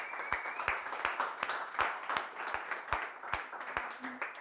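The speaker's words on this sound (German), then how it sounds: "Dann nochmal einen ganz großen Applaus für die Aufmerksamkeit." An audience applauds after a long lecture. Scattered hand claps keep up a steady, moderately quiet rhythm for several seconds, with a faint voice in the background.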